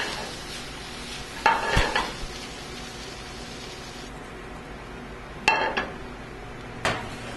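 Browned Brussels sprouts stirred in a hot pan, a low steady sizzle broken by a few sharp scraping and clattering stirs, close and without talk.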